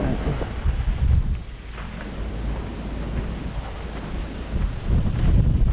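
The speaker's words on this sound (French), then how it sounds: "Il y a trop de vent, je sais pas comment on va faire pour conduire." Strong wind in the desert near Zagora, Morocco buffets the microphone in heavy, uneven gusts, a loud low roar that swells and eases throughout with no voices.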